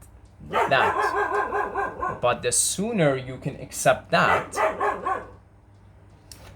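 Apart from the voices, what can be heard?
dog barking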